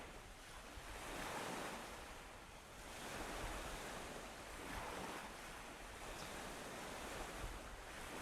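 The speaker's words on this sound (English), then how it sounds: "Open seas." An open-sea ambience in the Godot game engine, with steady rolling surf and wind-like wash that swells and eases in slow waves and holds at a soft, even level with no voices.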